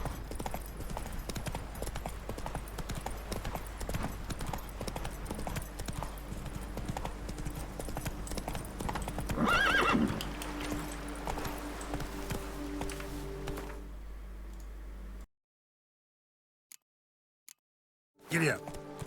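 Horse hooves clip-clop steadily at a gallop through a Witcher 3 game scene, close and continuous over ambient game sound with some voices, then cut to near silence near the end, with only brief faint clicks; no clear neigh stands out.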